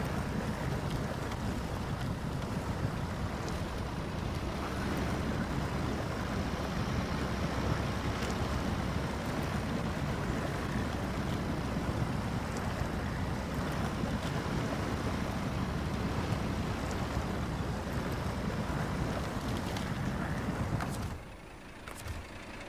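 A truck in the SnowRunner video game strains to pull a trailer, a dense, loud, steady engine roar that lasts almost the whole time before dropping suddenly near the end.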